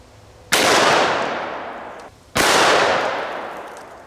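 Two loud, close gunshots from a Smith & Wesson 629 .44 Magnum revolver with a 6.5-inch barrel, firing Underwood 300-grain jacketed hollow points. Each sharp blast rolls into a long fading echo, with the two shots roughly two seconds apart.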